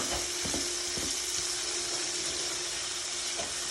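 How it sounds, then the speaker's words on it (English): A pound of cut bacon fries in a fry pan, giving a steady, close sizzling hiss with light crackles and small pops throughout. "We're going to start out with cutting and frying up a pound of bacon."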